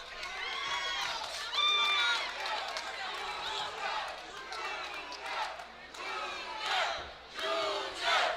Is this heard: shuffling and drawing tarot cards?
no